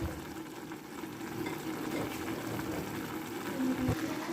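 Sweet pasta cooking in a pan while its water cooks off, giving a steady, soft sizzle and bubbling that holds evenly throughout, with no voices.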